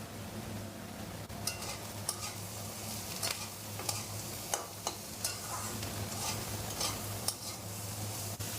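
Spices frying with salt and turmeric in a pan for spicy street-style Maggi, a soft steady sizzle under a low hum, punctuated by periodic sharp scrapes and taps of a spoon stirring.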